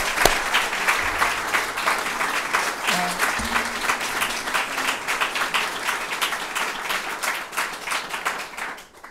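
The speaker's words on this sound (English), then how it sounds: "Would you show your applause" Sustained applause from a garden party audience, a steady dense patter of many hands clapping outdoors that carries on throughout without a break.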